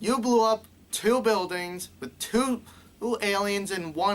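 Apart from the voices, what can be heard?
No everyday noises stand out.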